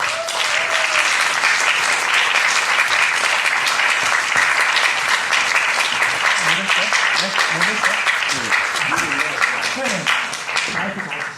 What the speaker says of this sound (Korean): 내가 교육해드리면 큰 박수를 쳐주기 바랍니다